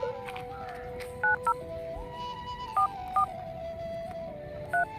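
Several short electronic telephone keypad tones beep one after another at uneven intervals, faint, over a soft musical background.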